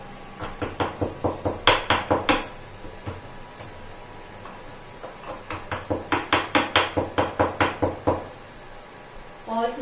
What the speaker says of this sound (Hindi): थोड़ी सी काली मिर्च ली है और इसे भी अब मैं कूट लूंगी थोड़ा सा।